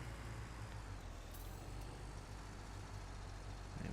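A truck idles and parks at the bottom of a farm field near the hedges, its steady low engine rumble continuous and close with a brief hiss like an air brake partway through.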